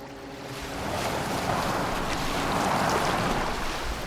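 A boat moves over open water in the video game Assassin's Creed Valhalla, a steady broadband wash of waves and wind that swells slightly and holds, with no voices.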